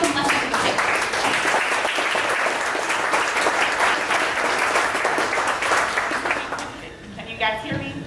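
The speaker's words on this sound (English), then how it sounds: "we actually stand up and we give a round of applause to our presenters" An audience at a 1 Million Cups event in Dallas applauds a presenter with steady, loud clapping for about seven seconds, then it thins out as a voice begins.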